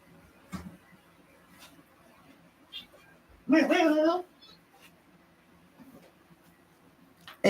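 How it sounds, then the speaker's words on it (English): A cat meows once at someone's feet indoors, a short, fairly loud, wavering call in an otherwise quiet room with small scattered knocks and rustles. "I knew there was a cat down on my feet"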